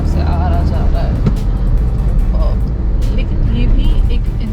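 A car rolls slowly along a narrow one-way village road between Gorakhpur and Varanasi, with traffic in both directions. A steady low engine and road rumble run throughout, and someone talks over it.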